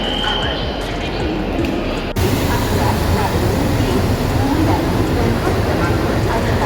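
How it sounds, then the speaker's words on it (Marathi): A train pulls in at a platform of Chhatrapati Shivaji Maharaj Terminus with a broad, steady rumble. A sharp jump in loudness comes partway through, and station bustle and voices carry underneath. "ट्रेन आलेली आहे आजी आणि बाबाची ट्रेन आलेली आहे"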